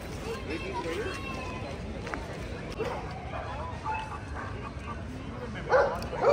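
A spotted pet dog named Simba gives yips and barks among scuffling movement, with a person talking throughout and a louder burst near the end.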